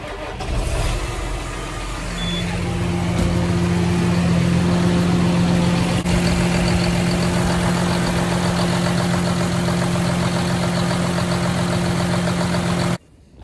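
A farm engine, just back from a fuel filter change before planting, cranks and catches then settles into a steady, loud, even idle with a constant low drone that runs unbroken until it is shut off abruptly at the end.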